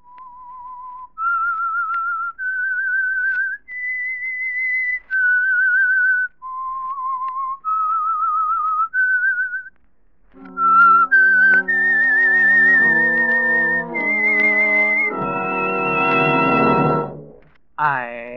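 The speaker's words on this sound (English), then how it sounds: "That whistle is your signal for the Signal Oil Program" Someone whistles a slow, clear tune of sustained notes, the opening theme of the 1948 radio drama The Whistler, then an orchestra swells in underneath, carrying the melody to a loud close.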